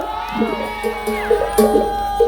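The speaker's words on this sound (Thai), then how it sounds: "ขอเสียงคนยังไม่เหนื่อยเลยแล้ว" Concert crowd at an outdoor festival in Singburi, Thailand, cheering and whooping in loud bursts over sustained musical tones, with shouting voices rising at intervals.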